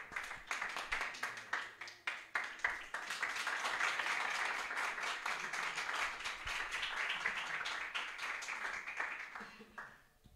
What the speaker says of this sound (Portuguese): louvando o Senhor com as palmas